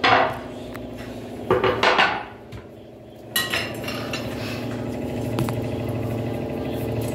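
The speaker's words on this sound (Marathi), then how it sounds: "आता मी कांदा आणि मिरची टाकून घेते" Onion and green chili tipped into a pan for a chiwar leaf vegetable dish, giving a loud clatter at the start, a second burst of rattling, then a steady close kitchen rumble.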